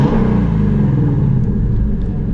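A 2016 Shelby GT350 Mustang engine runs steadily nearby, a deep, even rumble at idle with no revving.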